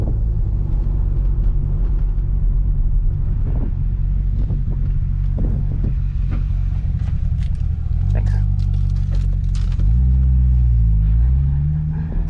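A stock Corvette C6 Z06 launching at a drag strip, its engine a loud, steady low rumble that climbs through rising pitch sweeps toward the end, heard up close with a voice talking over it.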